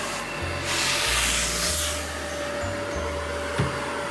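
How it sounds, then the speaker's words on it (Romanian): A vacuum cleaner runs continuously, close and steady, with a broad whooshing roar and a shifting low motor hum throughout. "dă cu aspiratorul, Filip."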